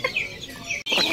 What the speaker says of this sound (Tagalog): Brahma chicken, mga kababayan. Half breed.